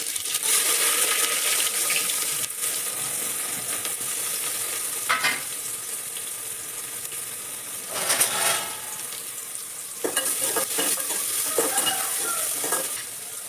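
Chopped onions sizzle steadily in hot oil for a long stretch, broken by occasional scraping stirs and clinks of a utensil against the pan.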